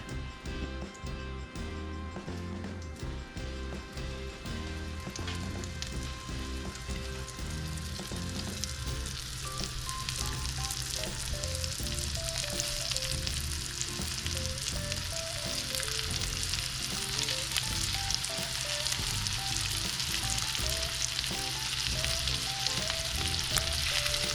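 Freshly caught rock scallops, seasoned with salt and pepper, sear in a hot pan, giving a loud, dense, continuous sizzle and crackle that lasts throughout with no voices.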